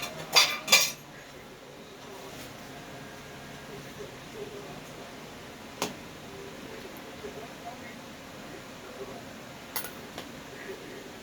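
A spoon clinks sharply against a dish twice at the start as coconut-filled dudh puli is transferred into a bowl. Softer, scattered scrapes and taps follow, with two more distinct clinks later, under a low, quiet background.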